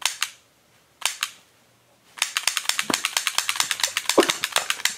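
A toy gun fires in rapid clicking bursts: two single cracks, then a fast unbroken string of sharp snaps, close and loud, with no talking.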